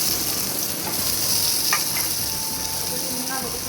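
Potatoes fry in soybean-sparked oil already used for frying pointed gourd and teasel gourd, seasoned with cumin; a steady, close, broadband sizzle runs throughout with a few brief clinks of stirring.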